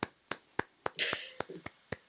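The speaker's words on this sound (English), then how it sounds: "I'm the only one you hear applauding" One person claps alone, close and steady at a brisk even pace, about seven claps across two seconds, during a live music show, with a brief voice murmuring in the middle.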